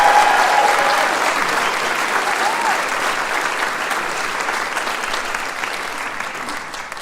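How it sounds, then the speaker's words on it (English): An audience at a college fine arts and communication council of scholars ceremony gives a sustained round of applause, a dense wash of clapping that starts strong and tapers slightly over about seven seconds. "Would you give them one more round of applause"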